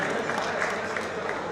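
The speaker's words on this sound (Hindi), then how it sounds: "जोरदार तालियां मिस्टर भावेश जी से रिक्वेस्ट करेंगे कि स्टेज पर आए प्लीज" Audience applause fills a Goregaon Merchants Association golden jubilee celebration as someone is called to the stage. A steady, dense wash of clapping from a crowd continues evenly throughout, with no clear gaps.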